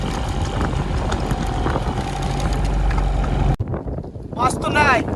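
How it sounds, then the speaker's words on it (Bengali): A fishing trawler rocking on rough deep sea, carrying steady loud wind and engine rumble for several seconds before it cuts to a quieter, close patch with a voice speaking. "দেখুন আমাদের ট্রলারটা কিভাবে দুলছে।"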